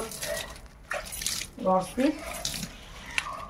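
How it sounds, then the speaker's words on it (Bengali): Water poured onto potted plants, a splashing, running flow heard close alongside a person speaking. "এখন নিচের গাছগুলোতে জল দিচ্ছি"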